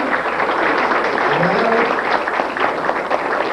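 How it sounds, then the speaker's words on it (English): Applause for magician Stefan Bartelski at a combined IBM/SAM banquet magic show in Atlanta, a steady wash of clapping across the room with a brief voice rising underneath, sustained at moderate loudness. "Another round of applause for Stefan Bartelski"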